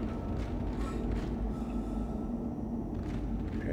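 A steady low rumble and hum of a sci-fi tram at a station in Dead Space, a continuous mechanical drone with faint clanks, filling the space with no speech.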